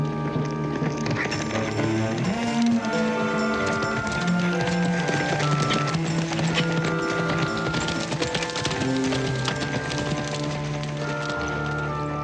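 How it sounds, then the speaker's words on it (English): Horse hooves clip-clopping steadily as a rider approaches, heard under a swelling orchestral music score that carries throughout. "Joe rode in a horse like I'd never seen before."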